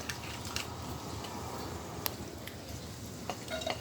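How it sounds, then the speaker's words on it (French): Garlic, ginger and mushrooms sauté in a little oil for Chinese-style stir-fried noodles with vegetables, a steady close sizzle broken by a few light utensil clinks near the end. "encore un tout petit peu d'huile pour revenir l'ail, un peu de gingembre et les champignons"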